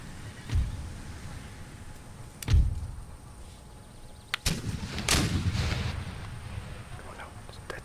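Mortar and artillery fire in the Empire: Total War battle for Baghdad, several heavy booming blasts spread over the stretch, a loud thump followed by rolling explosions with a lingering rumble.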